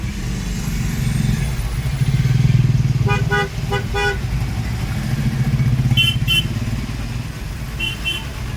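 Motorcycles and cars run along a village road in the Konkan, a steady loud engine drone with bursts of repeated horn toots near the middle and short beeps later.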